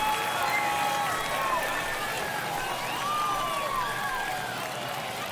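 A home crowd at a virtual MLB The Show 22 ballpark roars after a home run ties the game, a steady wash of cheering with a voice talking over it.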